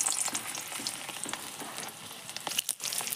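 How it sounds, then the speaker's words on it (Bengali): Boiled potatoes fry in hot oil in a pan on a wood-fired clay stove, sizzling steadily and close up, with occasional stirring scrapes and crackles. "সেদ্ধ আলুগুলোকে ভাজার জন্য দিলাম।"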